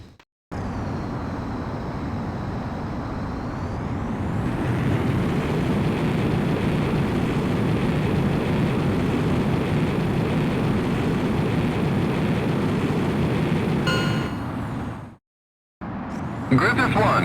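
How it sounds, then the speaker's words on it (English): An F-18E Super Hornet jet taking off in the Ace Combat X video game, a loud sustained engine roar that rises in pitch after a few seconds and holds steady, cut off by a short gap near the end. "you are cleared for takeoff."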